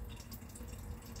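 Water flowing from a Sawyer one-gallon gravity water filter, a faint, steady trickling stream with soft drip detail, continuous and close, with no talking.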